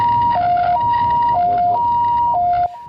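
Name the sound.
ambulance siren arriving at a car crash scene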